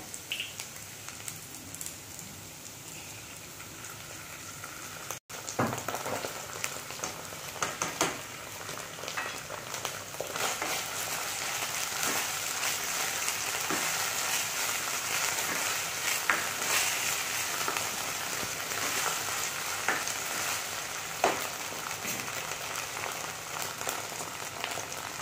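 Vegetable Manchurian frying in a pan as tomato ketchup is added, a steady close sizzle with crackling and occasional stirring scrapes running throughout after a brief knock.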